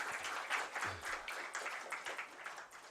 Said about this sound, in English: Please give Mr. Sujit Kumar a big round of applause.